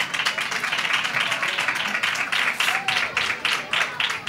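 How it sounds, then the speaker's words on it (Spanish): A group claps in quick, uneven bursts for Macarena at a fair-season show, moderately loud and close, with voices mixed in. "Ya un aplauso seguimos. Para Macarena."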